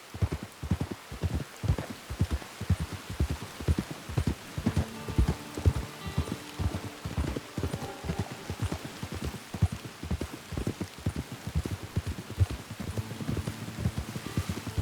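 Horse hooves clip-clopping in the video game Red Dead Redemption 2, a steady walking rhythm of close hoofbeats lasting throughout, with faint music underneath.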